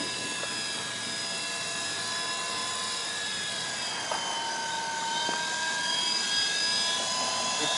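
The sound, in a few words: radio-controlled 4-channel helicopter flying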